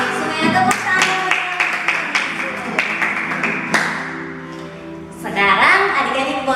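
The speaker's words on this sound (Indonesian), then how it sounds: "Oke, semuanya tepuk tangan." Children at a Sunday school service clap their hands together, sharp individual claps scattered over singing and a leader's voice, growing into a denser burst of clapping at the end.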